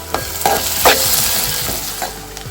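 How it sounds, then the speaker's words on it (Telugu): Vegetable pieces for samiya upma fry in a pan with ginger-garlic paste, giving a steady sizzle broken by several sharp scrapes of a spoon stirring against the pan, close and loud. "చక్కగా ముక్కలన్నీ వేగుతూ ఉన్నాయి చూడండి"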